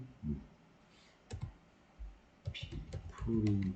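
Typing code on a computer keyboard in a Java programming lesson in Eclipse, scattered bursts of close, soft key clicks in short irregular runs, with a low voice murmuring near the end.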